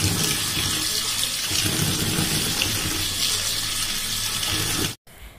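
Steady rushing tap water pours over amra fruits being washed for pickle, a loud close continuous splash that cuts off abruptly near the end.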